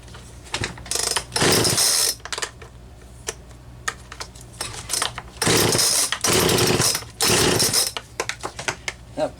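A Wen 3814 chainsaw, a Homelite 25AV variant, runs in loud bursts of revving that rise and drop back to a rough idle several times, close up with no talking.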